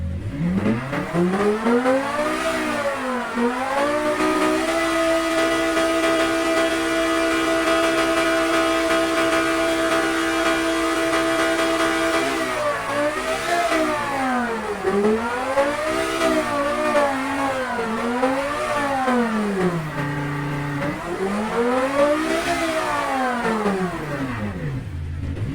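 A virtual car engine in the Automation/BeamNG.drive racing game revs repeatedly, climbing and falling in loud sweeping rises with a long held high-rpm stretch early on, no voices over it.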